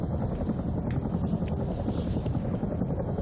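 Helicopter in the video game Arma 3, a dense continuous rotor and engine roar with wind-like rush, loud and steady throughout.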